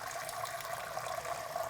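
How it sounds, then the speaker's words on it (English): Hot water pours steadily into a glass bowl, making a continuous close rushing and splashing sound with no break. "I'm going to go ahead and now fill up my glass bowl with some hot water."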